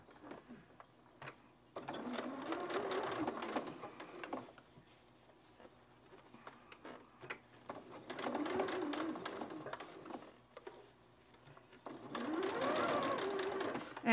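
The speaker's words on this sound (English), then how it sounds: "no matter how fast your machine can go, it doesn't mean that you have to go at full speed every single time." A sewing machine stitching a fabric coffee cup sleeve, running in three steady whirring bursts of a few seconds each with quiet pauses and small clicks between, close and clear.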